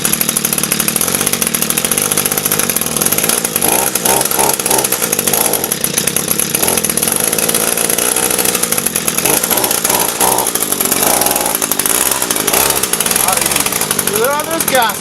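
An Echo string trimmer fitted with a knock-off carburetor runs with a loud, buzzy two-stroke drone, revving up and down unevenly throughout, close to the microphone.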